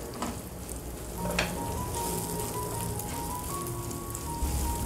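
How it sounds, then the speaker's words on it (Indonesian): Onions and chilies sizzle and fry in a pan while being stirred, a steady, close hiss with soft scraping from the stirring, and no voice over it. "kita masukkan bawang bombay, cabai-cabean kita masukkan semuanya. Kita aduk rata seperti ini."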